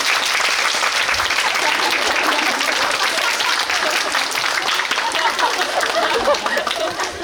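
An audience at a musical talk event applauds continuously, with a dense, even wash of many hands clapping loudly throughout, steady and without pause.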